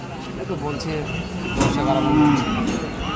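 A deshal-breed bullock, one of two at a farm, lets out a low, drawn-out moo that swells midway through, heard close by while people talk in the background.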